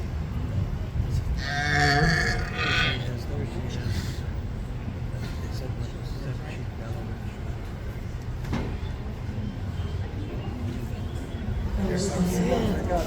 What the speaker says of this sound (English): She'll probably bellow here in a minute, that's okay.